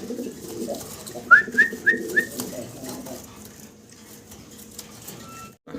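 Fancy pigeons on a rooftop loft give a short run of four or five rising coos in quick succession, moderately close, over a low background murmur, then the calls stop.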